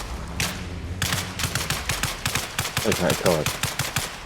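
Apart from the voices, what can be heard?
gunfire shooting at a vehicle tire in video game Arma Reforger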